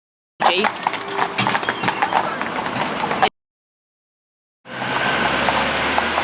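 Hooves of an ill-matched pair of Friesian horses being driven in rubber bits, steady clip-clop under continuous noise, broken by a short gap before resuming.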